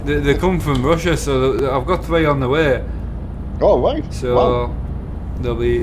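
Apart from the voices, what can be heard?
No distinct noise like a dog, phone or traffic.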